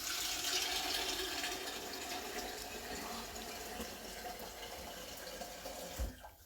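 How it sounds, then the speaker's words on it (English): Tap water runs into a kettle, a steady, soft splashing and trickling stream at close range, ending with a brief clunk near the end. "So although that's one full kettle, I'm actually going to fill it up and go again."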